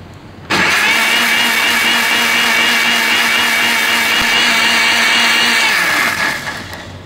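Mixer grinder blending bread omelette ingredients with oil: a loud, steady motor whir starts abruptly and runs for about six seconds before dying away, with no voices.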